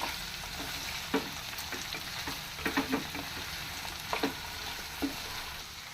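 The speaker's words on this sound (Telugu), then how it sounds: "కొద్దిగా కరివేపాకు వేసుకున్నాం. అలాగే ఒకసారి కలుపుకున్నాం." Curry leaves frying in a pan of brinjal and pea curry, a soft continuous sizzle broken by several sharp scrapes and clicks of a spoon stirring, close and fairly quiet.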